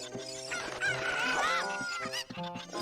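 Cucco chickens in the Zelda game Ocarina of Time cluck and crow in a dense, continuous game mix with layered tones and a rising squawk near the middle, no talking.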